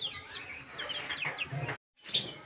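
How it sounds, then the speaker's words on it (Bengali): Brahma chickens clucking and calling close by in a steady, busy stream of overlapping cackles, with a brief break of silence before the clucks resume. "ব্রাহ্মা মুরগি।"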